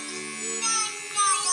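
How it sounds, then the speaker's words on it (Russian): A children's electric toothbrush in vibration mode gives off a steady, close electric buzz that grows a little louder toward the end, with no voices over it. "включить вибро, и она вибрирует"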